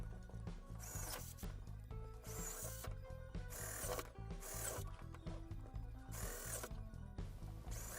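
An iron drill bit bores holes into wood for a DIY flight-simulator cockpit panel, heard as bursts of grinding, rasping drilling with pauses between, close but quiet, with no voices.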